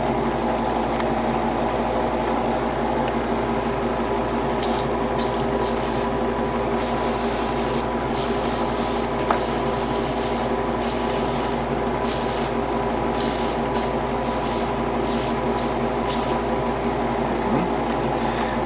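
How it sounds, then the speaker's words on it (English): An airbrush spraying paint onto parts of a Bandai HG 1/60 ARX-7 Arbalest model kit gives a steady, close hiss that runs throughout, broken by short pauses as the trigger is released. "I've already sprayed the other parts, and I'm also having some problem with my airbrush now"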